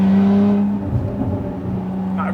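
Sports car engine, one of a Lotus Emira, Porsche 718 Cayman GTS or Alpine A110S, rising in pitch as it revs, then dropping on a shift and pulling again, heard from inside the cabin with a steady drone.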